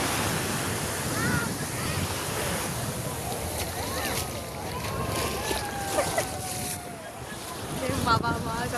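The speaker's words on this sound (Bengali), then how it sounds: "নদীতে কি বড় বড় ঢেউ আসছে" Large waves churn on a wide river near Bakkhali while a boat moves through them, a constant loud wash of surf mixed with wind buffeting the microphone and scattered voices in the background.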